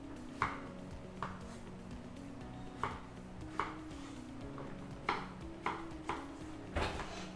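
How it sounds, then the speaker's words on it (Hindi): A knife chops through red pumpkin on a cutting board in a kitchen, about ten sharp, distinct thuds at an irregular pace over a steady low background hum. "ये लीजिए, रेड पम्पकिन काट लिया"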